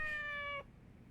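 A cat in the video game Yakuza 4 gives a single clear, high kitten-like meow lasting about half a second, followed by quiet.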